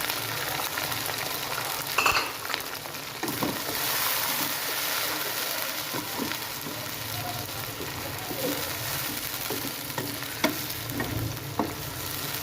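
Chopped tomatoes and a splash of water hit a hot pan of chicken biryani base, giving a steady sizzle and bubbling hiss with occasional stirring clinks, faint and close.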